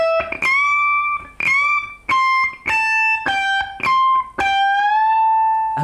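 A guitar riff is played in a handful of bright, sharply picked phrases with string bends that swell and release, close and loud, with short gaps between phrases and no voices.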